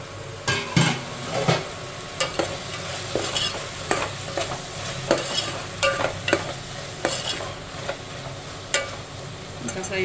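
A spiced mixture for dum biryani fries in a pan while being stirred, with a steady sizzle and repeated scraping, clattering utensil strokes at an irregular rhythm, close by.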